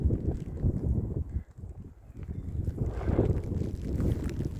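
Gusty wind on a wet moorland walking trail buffets the microphone with a low, rumbling roar that dips briefly and then swells again.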